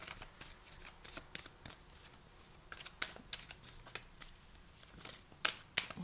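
Tarot cards are shuffled up close in a quiet room, a soft continuous riffle broken by sharper flicks and taps at irregular intervals.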